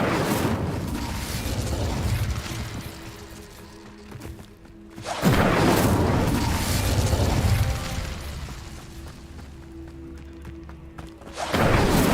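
The Incendio fire spell goes off in Hogwarts Legacy as three loud, roaring bursts of flame, a few seconds apart, each fading into a lower rumble.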